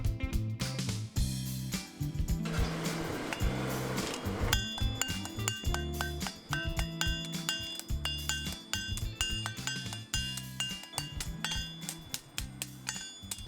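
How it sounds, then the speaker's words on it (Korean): Metal clanks and ringing strikes at a century-old, third-generation village blacksmith's forge in Goryeong where sickles are made, dense and loud, with rhythmic hammer blows and bright metallic resonance continuing throughout. "한쪽에서는 뻥튀기가 뻥뻥 터지고 또 한쪽에서는 탕탕탕탕 쇠망치 소리가 울려"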